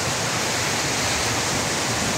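Spring water gushing up from the ground within the village of Namche Bazaar, Solukhumbu, Nepal, a loud, steady, close rushing flow with no pauses and no voices.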